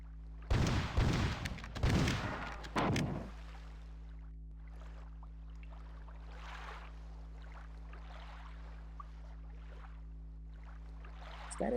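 Several heavy explosions boom in quick succession, loud and close, then fade into a quieter stretch of scattered softer rumbles and noise.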